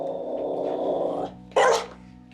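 A hyper, excited dog wearing a muzzle growls steadily at close range, then breaks into one loud bark-like outburst before falling quiet.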